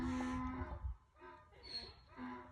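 A donkey brays somewhere behind the scene in a few drawn-out, harsh calls that rise and fall over a couple of seconds, heard clearly without speech over it.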